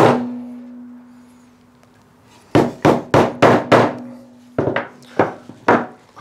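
A hammer drives wooden dominoes into a timber casement window joint, giving about nine sharp, loud, close knocks in two quick runs after a quiet stretch with a low hum.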